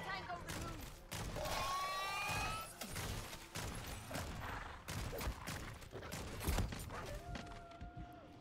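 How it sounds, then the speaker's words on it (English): Rapid hip-fire gunshots from weapons in Modern Warfare III Zombies ring out in several bursts with mechanical clicks between them, loud and close over continuous game ambience and effects. "Hip fire shots."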